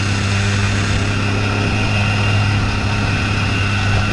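A Tomos moped engine drones steadily and loud throughout, a dense continuous buzz with strong low hum as it pulls in first gear with the clutch slipping, no voices over it.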